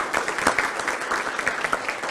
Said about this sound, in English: give them some applause.